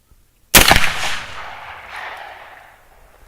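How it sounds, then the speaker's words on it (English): A single loud gunshot fired at a zombie head target, close and sharp, with a long rolling echo that fades over the next few seconds after a brief silence. "I'm going to shoot the zombie in the face."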